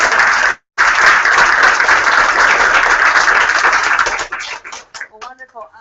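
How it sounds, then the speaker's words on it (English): A seminar audience on Peace Corps and agricultural development applauds its panelists with loud, dense clapping, briefly cut out near the start, that tapers away before someone begins talking. "let's give another round of applause not only to our panelists but to Francine."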